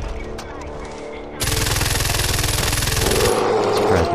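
Automatic gunfire in the video game Far Cry 4: after a brief lull a loud, rapid, continuous burst of shots kicks in and keeps hammering almost to the end, fading slightly in the last moment.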